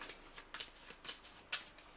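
Tarot cards are shuffled in quick, soft riffling bursts, about four crisp rustles close by in a quiet room, with no voices.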